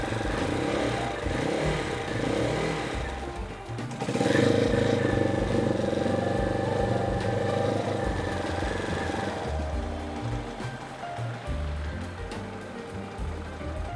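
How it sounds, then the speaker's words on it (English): A Yamaha TT250 motorcycle engine idles steadily on its own as it warms up, a continuous close low rumble with slight surges and clatter and no talk. "it's starting to warm up, it can hold an idle by itself now"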